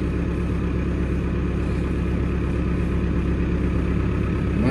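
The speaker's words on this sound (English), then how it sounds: "Right, let's get the tractor back down to the Massey shed." A Massey Ferguson 6265 tractor engine runs steadily at a low idle, a continuous close rumble with no talk over it.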